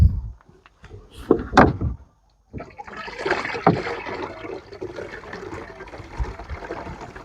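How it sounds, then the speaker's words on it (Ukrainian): Water is poured into a garden spray mixture with humate, a steady gushing fill that runs for several seconds after a few knocks and clunks of handling. "Добавляємо води сюди."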